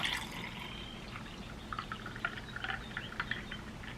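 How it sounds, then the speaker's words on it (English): Lukewarm coffee is poured into a lid-topped container, giving a soft, steady liquid trickle with small splashy drips that continue for several seconds at close range. "And then you just like pour it in here."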